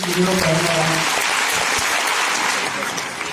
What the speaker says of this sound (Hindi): आप लोगों के लिए एक बार जोरदार तालियां बजनी चाहिए